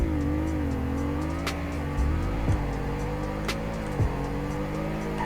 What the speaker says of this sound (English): let's try sport mode now. And rev it all the way up.